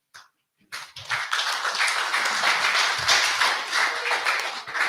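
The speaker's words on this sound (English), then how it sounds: "Please, a round of applause for His Excellency once again" Audience applause for the governor at a public address, starting abruptly after a brief pause and building into steady, dense clapping from a crowd that continues to the end.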